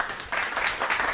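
A brief burst of hand clapping rises in a quick flurry of close claps and lasts about a second.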